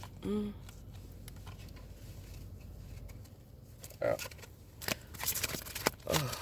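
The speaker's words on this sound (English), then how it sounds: "Let me reshuffle because these cards are a little big for my hands" A deck of large cards being reshuffled by hand, with brief riffling bursts and soft card slaps under faint background noise, heard close.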